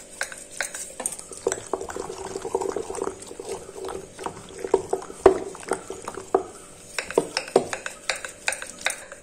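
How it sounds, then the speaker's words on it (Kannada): Curd being churned by hand for butter at home, a steady sloshing and stirring with irregular knocks of the churn against the pot, close and continuous, with no talk. "ಈಗ ಮಧ್ಯಾಹ್ನ ನಾವು ಬೆಣ್ಣೆಯನ್ನ ಕಡಿತಾ ಇದ್ದೀವಿ"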